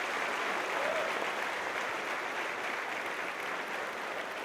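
Church congregation applauding together after a prayer, a dense, steady wash of clapping that fills the room and holds at an even level throughout, with no voices rising above it.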